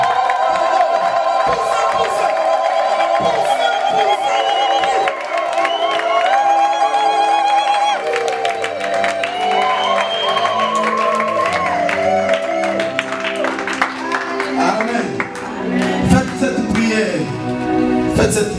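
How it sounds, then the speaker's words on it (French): Church congregation erupts in loud, sustained cheering and shouting of the Kélélo acclamation for Jesus, a dense crowd roar with whoops and rising voices that never lets up. "acclame encore Jésus avec le Kélélo"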